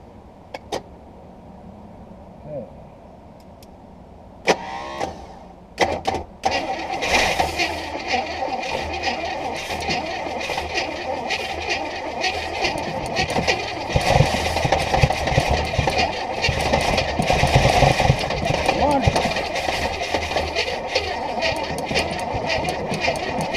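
A 1968 Buick Skylark, abandoned for about 40 years, is cranked with fuel fed to the carburetor from a boat tank. A few sharp knocks come first, then a long, loud, steady churning run that lasts to the end.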